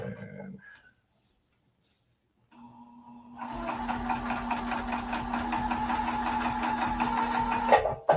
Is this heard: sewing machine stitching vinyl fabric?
yes